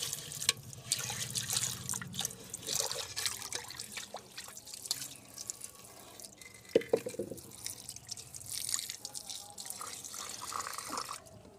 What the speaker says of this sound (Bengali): গাছটির যে পটটি ছিল সেই পটটিকে আমি ভালো করে ওয়াশ করে নিচ্ছি ভালো করে ধুয়ে নিচ্ছে